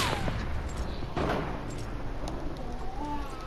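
Gunfire in Fortnite: rapid shots crackle under ongoing game noise, with a voice speaking over the action.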